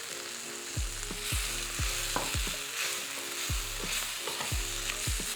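Cumin, garam masala, fenugreek and cashews fry in a hot pan, with a continuous sizzle and repeated scraping and stirring strokes in an uneven rhythm, close and moderately loud with no talk.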